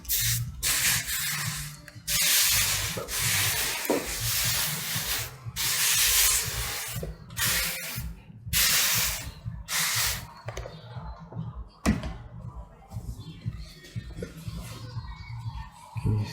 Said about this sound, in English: Using the iron, and just melting as much as candle wax as we can.